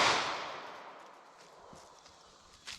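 A single 9mm pistol shot from a 3.2-inch barrel into fabric and MDF is heard as a sharp report at the start. It decays over a couple of seconds into faint room noise, and a small knock follows near the end.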